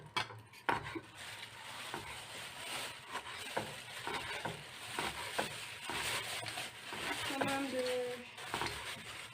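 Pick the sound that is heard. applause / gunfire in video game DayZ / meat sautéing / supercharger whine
meat sautéing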